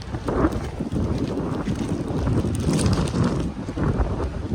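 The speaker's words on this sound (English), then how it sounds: "Very windy day here in Baton Rouge." Strong wind roars steadily into the microphone outside a building in Baton Rouge, Louisiana, a dense buffeting rumble with gusty swells and no voices.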